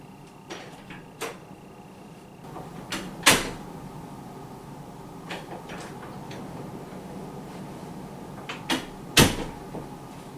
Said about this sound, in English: I'm going to go grab a spoon to stir.